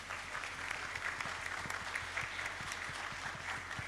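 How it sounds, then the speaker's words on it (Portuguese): A business panel audience claps at an entrepreneurship event in a soft, distant round of applause heard faintly over a low hum. "Uma salva de palmas."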